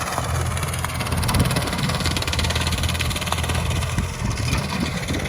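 Swaraj 744 tractor engine driving a banana cutting machine on about 1.5 acres, a steady low diesel rumble with a constant vibrating drone throughout, fairly loud and even, no talking.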